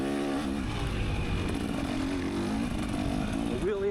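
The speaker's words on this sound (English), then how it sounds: "Shooting a wheelie up the hill." An ATV revs hard while shooting a wheelie up a hill on off-camber single-track trail at Mountain Ridge ATV Park; the close engine drones steadily and loudly, then its pitch climbs in a sharp rev near the end.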